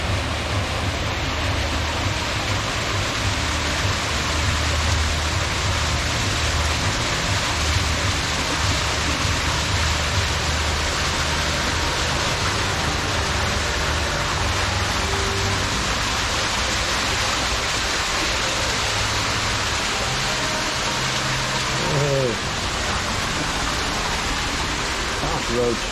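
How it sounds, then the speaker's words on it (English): Waterfall at Buffalo Bill's resort in Primm, Nevada: a steady, loud rushing roar of falling water that fills the whole stretch without a break. "Nice waterfall set up here."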